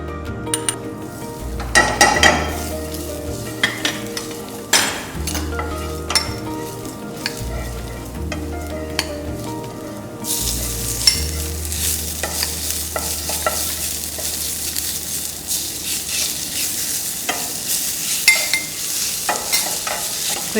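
Spinach sizzles and is stirred in a frying pan with clinks of a utensil against the pan, loud and close, with bursts of frying and scraping throughout and no talk.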